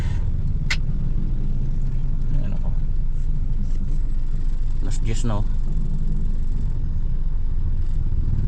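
Heavy road traffic with cars and motorcycles rumbling steadily nearby, a continuous low engine drone with passing vehicles, while people talk over it.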